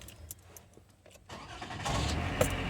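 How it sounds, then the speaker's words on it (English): A car with a just-repaired broken shifter cable is started in park: quiet shuffling, then the engine cranks and catches into a steady, fairly close idle rumble. "Now I'll see if I can turn it on."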